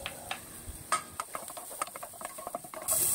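Garlic sautéing in coconut oil in a pan gives a faint sizzle with scattered crackles and light ticks, steady and close, with no talking.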